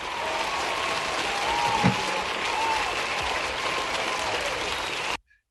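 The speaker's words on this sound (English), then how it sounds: "Round of applause." Steady applause from an audience at a live debate show, filling the clip at an even level before cutting off abruptly near the end.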